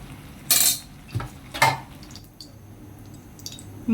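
Khuder bouya, a traditional Bikrampur broken-rice porridge, stirred in a pot with a few sharp spoon-on-metal scrapes and clinks in short bursts over a quiet background hiss.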